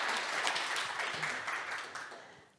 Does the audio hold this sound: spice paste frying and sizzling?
no